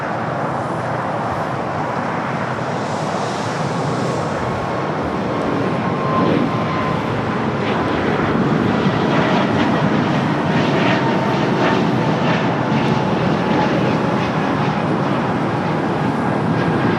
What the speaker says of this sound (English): we got a Breeze flight heading to Richmond, Virginia. Airbus A220-300 up next.